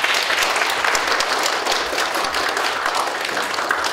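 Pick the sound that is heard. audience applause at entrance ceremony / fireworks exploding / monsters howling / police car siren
audience applause at entrance ceremony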